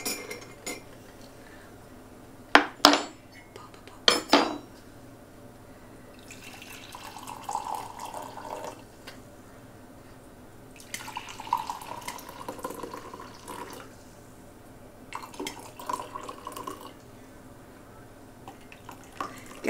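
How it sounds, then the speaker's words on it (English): Tea is poured into a cup on a family homestead farm, a soft splashing trickle coming in a few separate pours, with sharp clinks of cups and cutlery near the start and no talking. "So now we're going to pour our tea in our cup"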